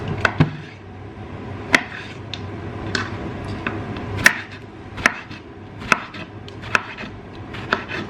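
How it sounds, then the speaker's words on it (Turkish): Sharp knife chops eggplant on a cutting board, about a dozen distinct strikes at an uneven, unhurried rhythm, close and clear with a faint background hum. "Ne çok küçük ne de çok büyük doğradım."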